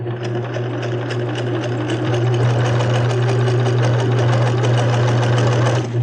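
Close, loud sewing machine stitching a bulky jeans hem with a hump jumper, running in a steady, continuous drone with an even stitching rhythm throughout.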